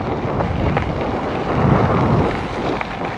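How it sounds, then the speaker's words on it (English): Steady, loud wind buffeting the microphone with a low rumbling roar throughout, no voices. "a bit windy today"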